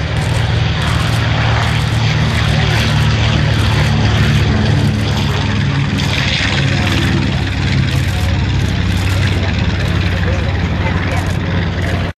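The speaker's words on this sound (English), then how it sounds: "bomber built by North American Aviation with 2 Wright 1700 horsepower radial engines." A North American Aviation bomber powered by two 1,700 hp Wright radial engines drones loudly and steadily at an air show, with a deep propeller roar holding throughout and speech faintly audible beneath it.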